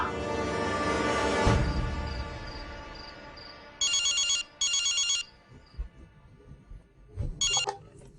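A telephone rings in a home, sounding as loud electronic ringtone bursts: two long bursts close together, then a shorter one after a pause, over a soft background hum, with no talking.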